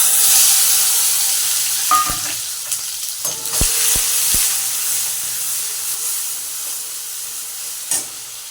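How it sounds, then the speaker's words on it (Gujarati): Garlic frying in hot oil in a home village kitchen, with a steady sizzle and hiss and a few sharp clinks and scrapes of a utensil in the pan, close and fairly loud, no talking. "તેલ હવે આવી ગયું છે નાખશું પેલા લસણ પછી નાખશું"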